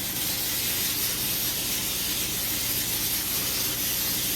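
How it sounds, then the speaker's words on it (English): A steady, close hiss of aerosol cooking spray on a pan runs continuously for several seconds without pauses. "I'm gonna get my spray and spray the pan."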